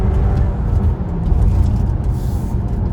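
A 2021 Audi Q5 S line launches hard from a standstill, a loud sustained low engine roar building steadily throughout with road and cabin rumble.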